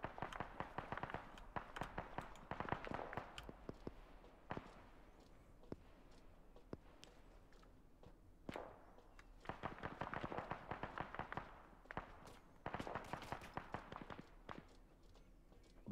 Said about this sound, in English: they're shooting the shit out of our building